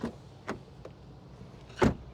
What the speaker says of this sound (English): let's listen to the sound of the closing door